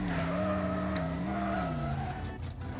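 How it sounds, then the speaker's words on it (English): A supercharged Mustang in the video game Teardown skids with a sustained wavering tire squeal over a steady engine drone, loud and continuous across a few seconds. "While we let this burn, we can run around in our supercharged Mustang. Wrecking the ground, I guess."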